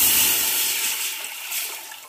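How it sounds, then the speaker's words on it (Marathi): Water poured from a pot into a vessel for sorghum papad dough, a continuous close rushing pour that gradually eases over about two seconds, with no talk. "तीन तांबे पाणी घातले, अजून एक तांब्या घ्या."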